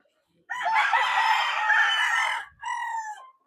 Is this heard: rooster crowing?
yes